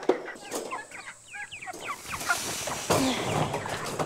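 Eighteen meat chickens about four or five weeks old, held in a cage, give a flurry of soft chirping clucks and peeps, close and fairly faint, over light rustling and handling noise.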